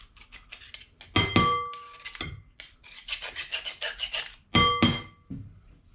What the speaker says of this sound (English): I got the garlic minced to the size that I need.